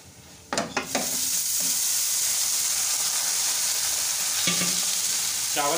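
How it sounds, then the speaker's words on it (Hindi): Rice tipped into a pan of fried, light-brown garlic, with a sudden burst of loud sizzle and scraping as it is stirred. A strong, steady hiss of frying follows, with more scraping of the spoon near the end. "चावल शामिल करके तो हम इसको अच्छी तरीके से करेंगे मिक्स।"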